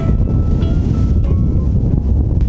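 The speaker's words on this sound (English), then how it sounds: "So windy." Strong wind buffets the microphone with a loud, low, rumbling roar that continues unbroken throughout, outdoors on open land in Contra Costa County.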